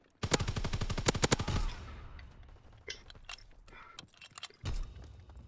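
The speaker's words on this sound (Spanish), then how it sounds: "¡Nos disparan desde las ruinas!" Rapid burst of automatic gunfire from a Call of Duty WWII multiplayer match, loud and dense for about a second and a half, then scattered distant shots and thuds.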